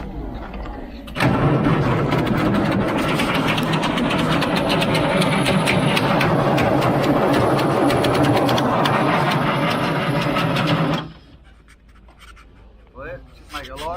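A Terex 82-40 dozer, abandoned, cranks and its engine runs with a loud, steady, rough diesel roar for about ten seconds before cutting off. Quieter sounds follow at the end.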